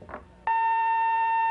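A single electronic buzzer on a 1981 high-school quiz show sounds abruptly and holds as a steady, loud tone with a bright harmonic stack for over a second, after a brief murmur.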